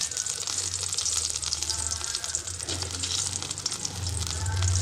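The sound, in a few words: boiled potatoes frying in oil in a wok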